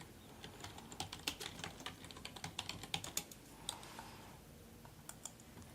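Computer keyboard keys clatter in quick, uneven bursts of close clicks while code is typed into a Microsoft Access form, pausing briefly before a few final taps.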